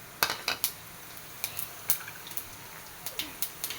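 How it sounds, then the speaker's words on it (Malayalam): Cinnamon, cloves and cardamom go into hot oil in a pan, heard as a series of small, close metallic clinks and taps from a spoon and pan over a faint background hiss. "ഇനി അതിലോട്ട് ലേശം പട്ട ഗ്രാമ്പൂ ഏലക്ക ലേശം ഇട്ട് കൊടുക്കാം."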